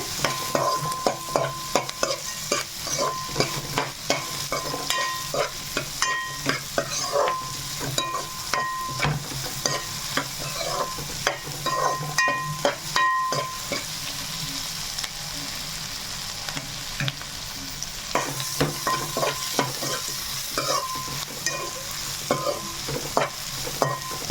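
Onions and green chillies fry in a pan for a chicken masala gravy, browning under repeated scraping and stirring strokes; a constant sizzle runs beneath the rhythmic clatter of the spoon against the pan, with no talking.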